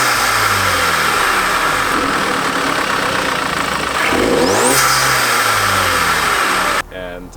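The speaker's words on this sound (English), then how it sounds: "So it changes the sound of your vehicle. You can actually hear the turbo a whole lot better." An Audi A4 B8 with a cold air intake revs loudly and steadily, its turbo spooling audibly as the engine note rises and falls, then cuts off near the end.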